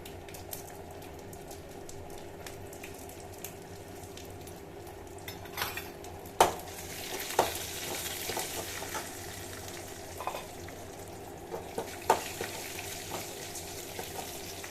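Urad dal, curry leaves and dried chillies spluttering in hot oil, with mustard seeds already added, a soft continuous sizzle broken by sharp pops and a few louder crackles and clinks, close and otherwise quiet.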